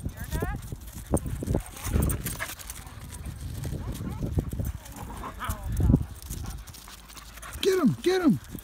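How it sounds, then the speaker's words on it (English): Dogs roughhousing at a dog park, with scuffling, panting and yelps in a busy outdoor mix, overlaid by people talking and calling out nearby. "That's Ben and Daisy roughing it up with Michelle"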